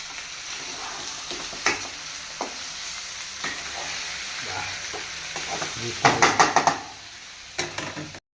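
Chopped tomatoes fry in a pan for a tomato egg palya, with a continuous sizzle under scattered spatula knocks and a quick run of clattering scrapes near the end. No voices are heard.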